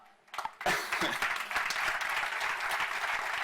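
Audience applause at an education summit breaks out after a brief quiet start and holds as a steady, dense wash of clapping from a sizeable crowd.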